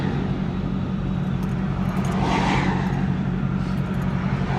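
A car engine whining under hard acceleration, a loud sustained roar close by that swells slightly partway through, no talking.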